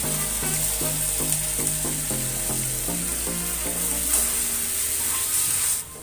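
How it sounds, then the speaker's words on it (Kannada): Blended tomato frying in masala for restaurant-style chana masala, a steady close sizzle with faint stirring, while soft background music plays throughout. "ಇದು ಮಿಕ್ಸಿ ಮಾಡ್ಕೊಂಡಿರೋ ಟೊಮೆಟೊ ಹಾಕ್ತಾ ಇದ್ದೀನಿ."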